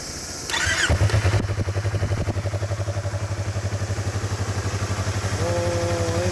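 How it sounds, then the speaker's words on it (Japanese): A 2016 Yamaha YZF-R25 motorcycle cranks and starts, then settles into a steady, close, rhythmically pulsing idle, with a brief voice near the end. "そんなエンジンかけてもらえる？"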